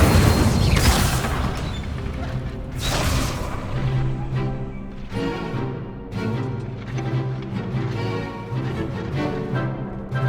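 Fiery Incendio spell blasts burst during a Hogwarts Legacy duel, loud booming whooshes at the start followed by rumbling impacts mixed with game music and effects, with no talking over them.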